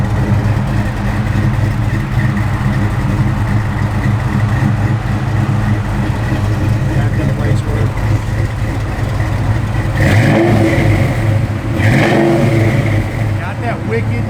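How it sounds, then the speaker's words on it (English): A 1992 Ford Mustang LX idles with a deep, steady rumble from the rear exhaust, briefly revving louder around the tenth and twelfth seconds, heard up close. "Got that wicked 90s Mustang sound out the rear."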